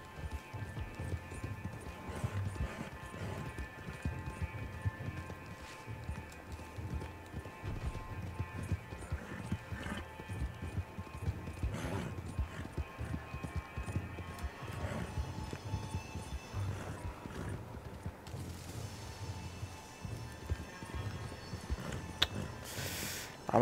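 A horse gallops in the video game Red Dead Online, its hoofbeats clopping in a fast, steady rhythm for over twenty seconds at moderate loudness, with faint game ambience underneath and no talking.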